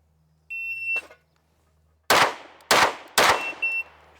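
Three sharp pistol shots from a race gun at 15 yards, loud and close, coming about half a second apart after a draw, each with a short ringing tail, followed by a fainter fourth crack; a steady electronic beep sounds just beforehand.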